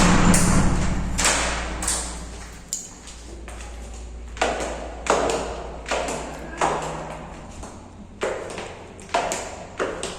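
A door in a house in Cape Verde is shut with several loud thuds and knocks, repeated bangs spaced across the stretch with a steady low hum underneath.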